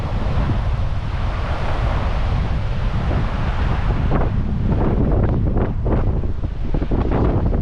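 Water overflowing the spillway of Cyprus's second largest dam, a steady loud outdoor roar of rushing water mixed with heavy wind buffeting against the microphone, continuous throughout.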